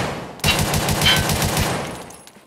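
Rapid automatic rifle fire during a recoil test in a video game, a loud close burst of evenly spaced shots lasting about a second and a half, then a trailing echo, no talk.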